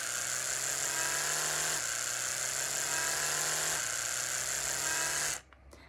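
An Oral B Pro 3 electric toothbrush runs with a steady, close, high buzzing hum that shifts pitch slightly as it changes modes, then cuts off abruptly near the end.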